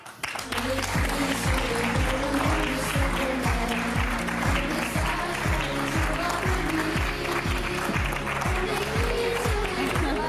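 A French television studio audience applauds steadily in a continuous wash of clapping, mixed with a rhythmic musical beat and talking voices.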